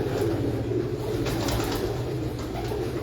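Firozpuri pigeons cooing steadily, a continuous soft throaty murmur from several birds close by, with faint ambient noise behind and no talk.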